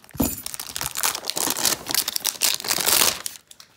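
A retail sports card pack wrapper is cut open up close, a quick run of crinkling plastic and tearing foil lasting a few seconds, with no talking.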